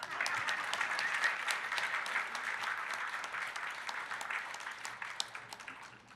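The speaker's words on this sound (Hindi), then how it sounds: "इस बात पर आप ताली नहीं बजाएंगे?" An audience at a talk gives warm, sustained applause, dense clapping from many hands that stays strong before thinning slightly toward the end, with no voices over it.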